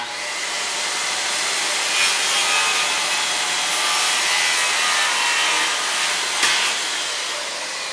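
Handsaw cutting a wooden wall stud during basement wall framing, a steady rasping stroke sound that runs loud and unbroken for the whole stretch with no talk.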